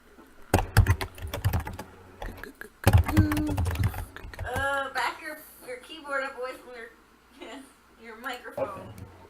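Rapid clattering keystrokes on a computer keyboard come in two short bursts during a home tabletop role-playing game session, after which people talk over a quieter background.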